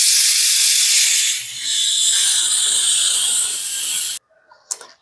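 Loud, steady hiss of steam escaping from a pressure cooker of oxtail kare-kare as it is opened, lasting about four seconds before cutting off, followed by a few faint clinks.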